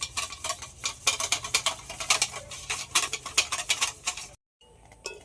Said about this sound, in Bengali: দইটা আমি ভালো করে ফেটে নেব